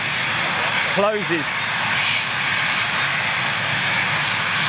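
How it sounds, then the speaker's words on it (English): Aircraft engines spooling up on departure, a steady broad roar filling the whole clip, with someone briefly talking over it near the start. "systematically with the aircraft as it departs, as it spools up"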